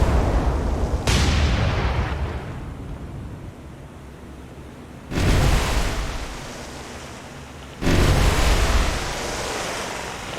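Main 16-inch guns of the battleship Massachusetts fire in War on the Sea, three heavy booming salvos spaced several seconds apart, each leaving a long rolling rumble over steady ocean-like noise, loud and close with no voices.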